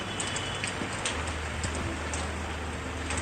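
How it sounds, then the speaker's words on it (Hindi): Steady heavy morning rain in Poonch, Jammu and Kashmir, a constant hiss of falling drops with faint ticks of rain on a surface, with no talk. "लगातार सुबह से बारिश हो रही है"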